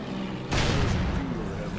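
A single heavy tank gun shot in World of Tanks booms in suddenly and loud after a quiet half-second, then rings and rumbles on as a sustained low decay.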